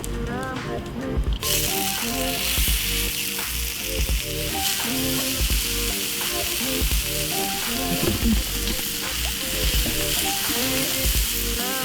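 Burger patties sizzle and spit loudly on a hot grill plate brushed with oil, a dense continuous crackle with occasional scraping, and no talk over it.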